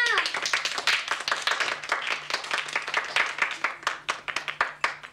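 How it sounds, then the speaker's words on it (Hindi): Audience clapping at a children's school stage show about idioms and proverbs, a steady run of many hands applauding for about five seconds, fairly close and lively, with a faint hum beneath. "तालियां।"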